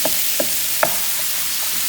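Ground beef sizzling and frying in a frying pan, a soft steady crackle with a few light knocks from stirring, close by and with no talking.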